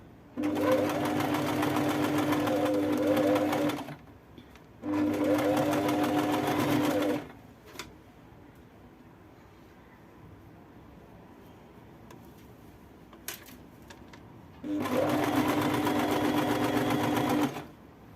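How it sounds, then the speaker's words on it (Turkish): A sewing machine stitches beads onto white shirt fabric, running in three loud steady bursts of rapid mechanical whirring separated by quiet pauses with faint handling clicks. "boncukla kumaşın arasını dikiyorum"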